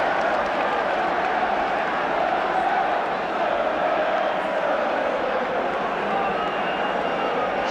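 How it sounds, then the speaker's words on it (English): Arsenal supporters in a packed football stadium applaud a goal in a 1980 match, a steady broad roar of clapping and crowd noise sustained throughout, with no single voice standing out. "Arsenal supporters applaud, Spurs supporters must feel like weeping."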